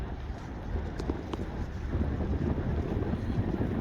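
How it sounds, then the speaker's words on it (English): Steady wind at La Sagesse Beach, Grenada, buffets the microphone with a low, rushing roar that builds slightly toward the end, with no voices. "It's a wind, as I'm sure you can hear on the camera."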